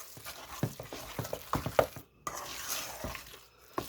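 Mixing a loaf mixture in a bowl for a mini loaf pan, with a run of soft, uneven scraping and clacking strokes close up, a brief pause midway, then more stirring.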